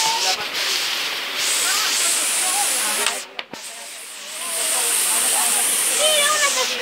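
Water pours steadily down a small waterfall beside a river on the way to sulphur baths, a continuous broadband rush. Near the middle a voice and a brief interruption break in, and people talk faintly over the water.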